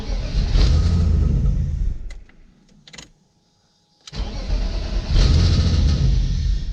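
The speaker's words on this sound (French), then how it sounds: "Quand elle démarre, comme si elle tournait peut-être sur 4 cylindres." A BMW E36 engine cranks and catches, running rough as if firing on only four cylinders, loud and close; the running cuts out around two seconds, leaving brief clicks and near silence before the engine fires up again and runs unevenly.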